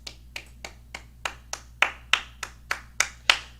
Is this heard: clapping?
yes